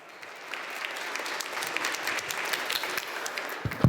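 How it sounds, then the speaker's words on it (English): Audience applause at a corporate pitching event as a presenter is welcomed on stage, clapping that builds from soft to a steady crowd round, with a few sharper knocks near the end. "Applause."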